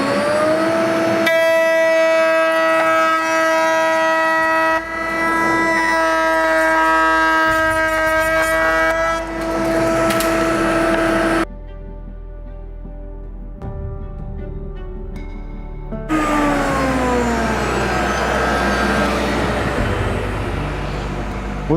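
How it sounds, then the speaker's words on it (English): Dust collector and router table spindle running in a woodshop, a loud steady tonal whine that stops for a few seconds, then winds back up and slowly falls in pitch. "Let's turn the dust collector. Start the spindle up."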